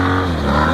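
A BMW 800GS motorcycle engine held at high revs during a stunt show, a loud, steady droning roar with a strong low hum, brief and unbroken.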